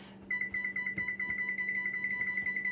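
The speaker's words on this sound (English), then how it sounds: "So I'm going to set my timer on 20 minutes." A kitchen timer is set for 20 minutes as corn bread goes into the oven, giving a rapid, steady run of high, thin electronic beeps close by over a faint background hum.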